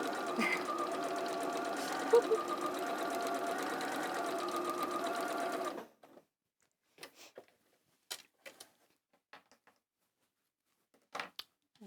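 A sewing machine chain-piecing fabric runs in a fast continuous whir for about six seconds, then stops, leaving only faint scattered clicks and handling noises.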